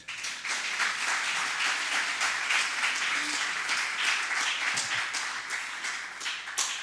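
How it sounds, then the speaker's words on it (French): An audience at an eightieth-anniversary event applauds warmly, with dense, continuous clapping that holds steady for several seconds before tapering slightly at the end. "On peut l'applaudir."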